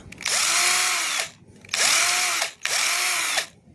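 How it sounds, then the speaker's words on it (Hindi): A high-torque electric motor rigged as a drill whirs loudly and close in three bursts, each spinning up with a rising whine, holding a bright steady buzz, then winding down between runs. "और ऐसे में बन जाती है ड्रिल।"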